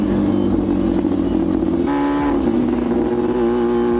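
A loud Yamaha R6 sport bike's engine drones steadily at sustained revs while riding, the pitch dipping briefly as it shifts up and then holding a controlled, constant note throughout.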